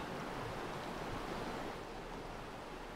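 River water rushing through a volcanic gorge in Hokkaido, Japan, a dense, steady broadband roar of flowing current heard up close and continuous, with no voices.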